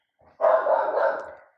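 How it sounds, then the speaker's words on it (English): A single loud indoor dog bark, short and close, rising sharply and trailing off, with nothing else around it. "I hope y'all can't hear my dogs barking"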